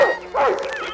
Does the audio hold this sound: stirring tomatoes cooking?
no